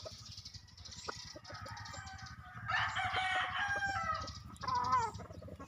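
Large chickens cluck steadily close by while a rooster crows loudly in the middle, with more clucking and calls following over a constant farmyard background.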